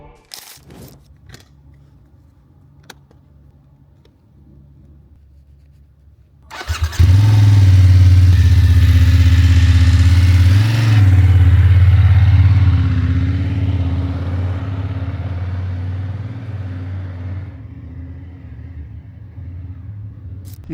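A 2024 BMW F800 GS motorcycle engine fires up after a quiet stretch, then rumbles loudly and steadily as it rides, tapering a little toward the end.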